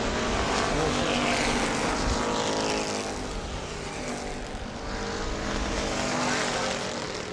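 Stock race cars rolling off for a heat race at New Smyrna Speedway, a loud, steady engine roar that swells and dips as the pack moves, with faint announcer talk underneath.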